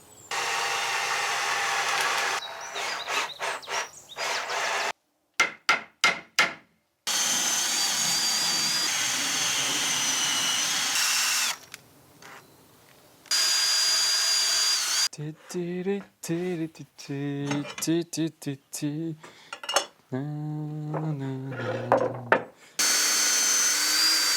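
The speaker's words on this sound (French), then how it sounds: "Aujourd'hui on va faire le pré-perçage" A power drill pre-drills wooden boards for a custom TV bookcase unit, whirring in repeated short bursts with pauses and brief stop-start pulses between them.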